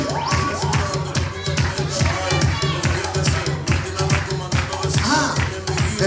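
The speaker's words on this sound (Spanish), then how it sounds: "Y las palmas que suenen." A crowd claps hands in a steady, lively rhythm at a Christmas party game, with cheering voices and talk mixed in throughout.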